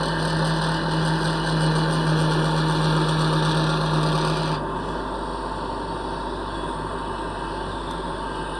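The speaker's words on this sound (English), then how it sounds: "then the shaving starting to come up the top. And I can tilt it to one side and starting to cut." A wood lathe spins timber while a turning tool cuts it, producing a steady continuous rasping, scraping drone with a high motor whine; the cutting noise drops off about halfway through, leaving the quieter hum of the running lathe.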